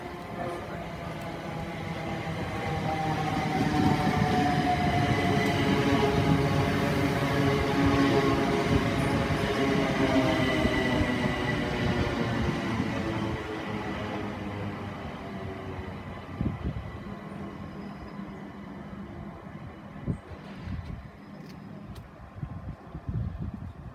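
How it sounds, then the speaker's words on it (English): Southern Class 377 electric passenger train arriving at Worthing station, its rumbling motor and wheel noise rising loud and close, holding steady, then slowly easing off as it draws to a halt. "the first of two trains to ride in, is going to be the 1655 Southern Service to Southampton Central"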